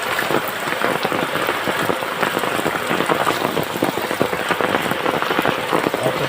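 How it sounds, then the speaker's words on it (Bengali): Heavy rain falls steadily and loudly, a dense, continuous patter drumming on surfaces nearby with no break throughout. "এত পরিমাণ বৃষ্টি,"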